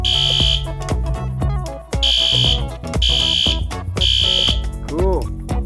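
A P2R fire alarm sounds in a Code 3 pattern of three loud, harsh electronic horn blasts, a pause, then repeats, with a person talking alongside.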